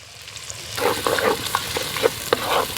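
Onions hit hot oil for an Ankapur country chicken curry: a quiet moment, then a sizzle swells up and keeps bubbling close by, dotted with light stirring clicks.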